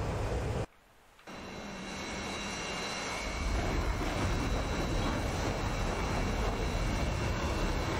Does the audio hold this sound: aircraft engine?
yes